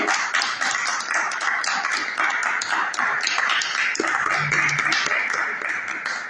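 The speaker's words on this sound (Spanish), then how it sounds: "Un fuerte aplauso a nuestro Señor Jesucristo, por favor." A church congregation applauds in a dense, sustained round of clapping that stays steady and loud, with a faint voice underneath.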